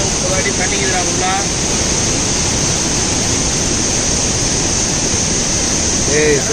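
Roar of water rushing over the Hogenakkal waterfalls, a steady, dense, loud broadband wash that never lets up, with brief faint voices calling out over it near the start and again at the end.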